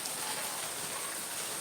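Steady rain falls during a flood in Batam, a dense, even hiss of drops on surfaces, moderately loud and unbroken with no voices.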